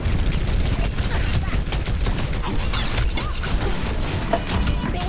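Rapid continuous gunfire in Overwatch, loud and dense with mechanical clatter and impacts running throughout, no speech.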